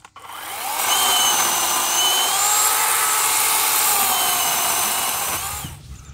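A battery-operated WORX 40 volt chainsaw cuts through tree branches outdoors, a loud, steady high-pitched whine that spins up, holds for several seconds and winds down near the end.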